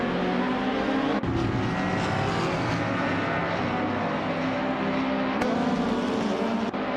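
A 2021 Ford Mustang races in a driving game, its engine droning steadily with a continuous mid-range roar and faint shifts in pitch, other car noise blended in behind, no voices.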